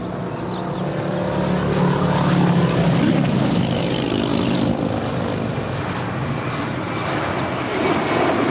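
An airliner departing LAX for Boston, a loud sustained engine roar that swells and holds steady for several seconds, heard from nearby with no talk over it.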